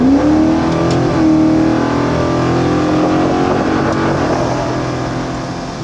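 A car accelerates hard on a test drive, its engine revving up in one loud, rising pull that holds strong and then eases slightly toward the end, with no talking.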